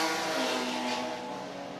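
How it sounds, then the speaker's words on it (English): BMW touring cars of the BTC3 class at a Riga circuit race approach with a steady loud engine drone and high whine, slowly fading slightly as they pass. "But here come the leaders, Kliobaučius, Jatkevicius, both BMWs in BTC3 class"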